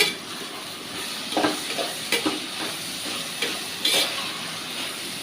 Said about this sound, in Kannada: ಈಗ ಸ್ವಲ್ಪ ಉಪ್ಪು ಹಾಕ್ಕೊಂಡು ಚೆನ್ನಾಗಿ ಫ್ರೈ ಮಾಡೋಣ